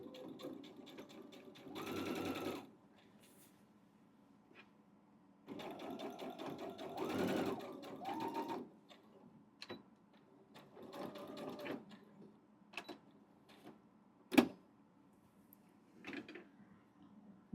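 A sewing machine stitching a baby quilt runs in several short bursts of rapid mechanical whirring, separated by quiet pauses with small clicks and handling sounds, close and moderately loud.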